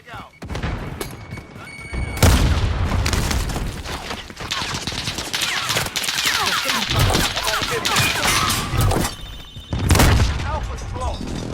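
A frag grenade explodes in Warzone with a loud boom amid sustained automatic gunfire and further heavy blasts, dense and continuous battle noise with some voices underneath.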